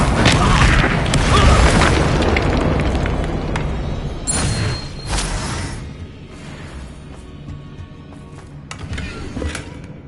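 Booming spell blasts from Confringo and Expulso explode in the Hogwarts Legacy video game, several heavy broadband bursts with rumbling tails that fade into quieter background between hits.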